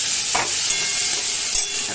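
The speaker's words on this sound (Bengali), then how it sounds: "মশলাটা ভাজা হয়ে গেছে, ভিতরে দিয়ে দেবো আলু" Spice masala with chopped tomato and boiled potatoes frying in a pan for egg curry, a dense constant sizzle with brief scraping stirs, close and loud.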